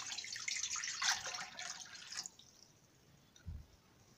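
Cold water pouring into a container, a bright continuous splashing stream for about two seconds that then stops, followed by a single low knock.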